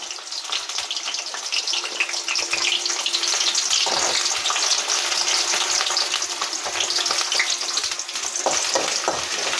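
Ginger and garlic fry in hot oil for chicken bassaaru, giving a steady, close sizzle that keeps going the whole time, with faint stirring scrapes and no talking.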